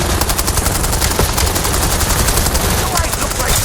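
Rapid automatic gunfire in Call of Duty Black Ops 7 multiplayer, a loud, relentless stream of closely spaced shots running the whole time.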